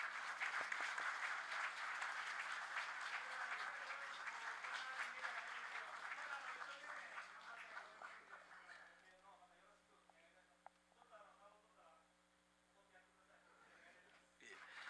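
An audience applauds at the close of a public lecture in an assembly chamber. The clapping is sustained and full at first, then thins and fades over several seconds, and voices follow.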